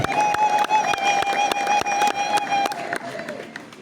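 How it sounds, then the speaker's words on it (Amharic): A church congregation ululates in praise during a service for Saint Michael, a loud, sustained, high-pitched trilling carried by many voices, with crowd noise and scattered clapping beneath. "እልል ብላችሁ እግዚአብሔርን አመስግኑ"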